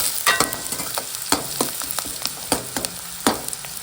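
Onions roasting in a pan with coconut, a loud, close sizzle punctuated by rhythmic scraping stirs every fraction of a second.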